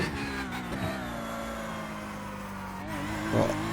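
A Porsche GT3R race car engine in iRacing at Hockenheim, held at a steady, loud drone with harmonic whine, then rising as the throttle opens near the end.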